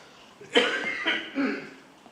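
A man with weak bronchial tubes coughs three times in quick succession at a National Assembly lecture, dry, close bursts against a quiet room.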